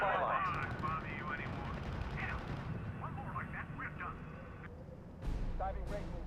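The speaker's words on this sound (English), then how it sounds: "Unit reports heavy fire" Heavy gunfire crackles and thumps through a RUSE real-time strategy battle, a steady din of shots and blasts with voices talking over it throughout.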